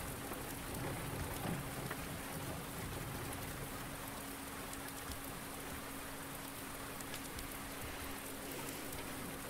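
Rain falls in Farming Simulator 19, a steady, even patter of drops on surfaces across the whole stretch, with a faint low hum beneath and no talking.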